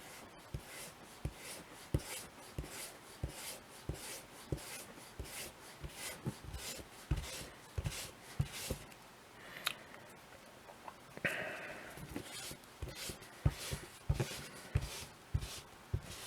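A dry eraser rubs back and forth over a glossy comic book cover in repeated short, close scrubbing strokes, fairly quiet and alone.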